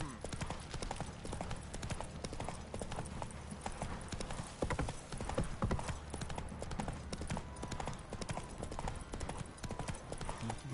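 Horse hooves clip-clopping steadily in the video game The Witcher 3, a continuous quick rhythmic trot of hoofbeats at moderate distance, with a faint background wash and occasional tack jingles.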